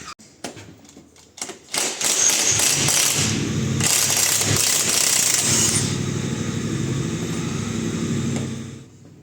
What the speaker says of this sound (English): So I'm going to undo the big nut in the middle